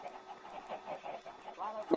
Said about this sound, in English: Chickens are all over the place. Chickens are out.